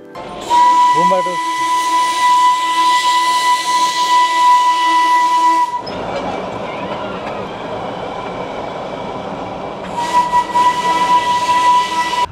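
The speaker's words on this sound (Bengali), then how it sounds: "দেখলাম তো দেখলাম, স্টিম ইঞ্জিন দেখলাম" A steam-engine toy train in North Bengal rumbles past up close with a loud continuous hiss and a sustained whistle tone that cuts out midway, then returns near the end.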